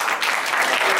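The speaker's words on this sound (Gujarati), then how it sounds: "તમારો ટેકો હોય તો તાળીઓ પાડો અને હાથ ઊંચા કરો." A crowd claps together at a community association's general meeting, a dense burst of steady applause filling the room, fairly loud with no voices.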